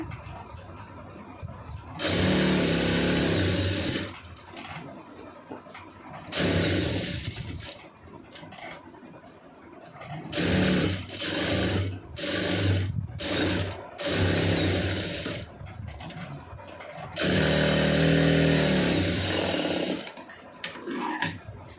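A sewing machine stitches the lining of a cross-cut blouse in several sustained runs of rapid whirring and clattering. Short pauses with handling noises fall between runs, all heard close with no talking.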